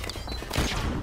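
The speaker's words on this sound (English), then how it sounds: "Flashbang out." A flashbang grenade detonates in the Modern Warfare Remastered campaign, a single loud burst partway through one second of dense game noise, with a bright broadband blast and low rumble trailing off.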